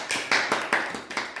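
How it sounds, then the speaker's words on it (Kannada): A handful of slow, sharp claps at a Diwali event, four or five spaced hand strikes sounding close and distinct, each fading before the next, with no voices. "ಅವರಿಗೆ ಚಪ್ಪಾಳೆ ತಟ್ಟೋಣ"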